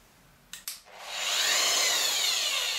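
A power scraper set to about a 15 mm stroke works an adjustable angle plate, starting after two short knocks and then running as a steady close whirring, buzzing scrape.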